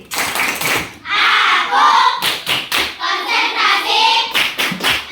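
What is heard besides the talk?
rhythmic clapping game (concentration clap) by schoolchildren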